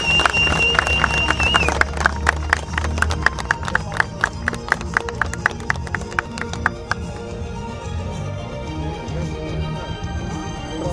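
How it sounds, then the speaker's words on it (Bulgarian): Loud audience applause at a rally award ceremony in Burgas, with dense irregular clapping sustained throughout and music playing underneath; a brief tone is heard early on. "Силни аплодисменти"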